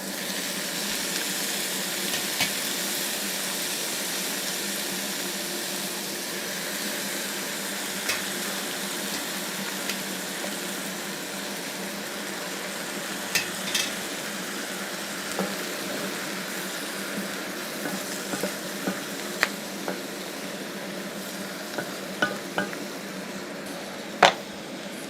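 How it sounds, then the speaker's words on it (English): Vegetables sizzle and fry in a pan with a steady crackling hiss, broken by sharp clicks and scrapes as they are stirred, continuing evenly for the whole stretch. "Now I will add the veggies"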